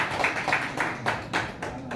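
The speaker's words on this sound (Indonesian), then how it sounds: "Berikan tepuk tangan yang meriah." An audience at a ceremony for the installation of a city board in Yogyakarta claps in a short burst of rhythmic, moderately loud applause.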